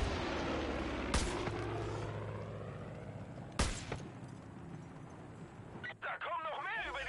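A grenade explosion in the video game Far Cry: two sharp broadband blasts over a dense, noisy game soundscape, with voices talking over the action.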